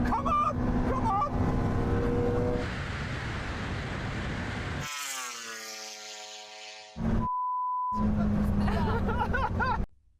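A Porsche 918 Spyder hybrid supercar and a Red Bull MotoGP bike race each other; crowd chatter and excited voices give way to a loud engine note climbing in pitch, then a short steady tone and more chatter.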